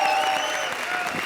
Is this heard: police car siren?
no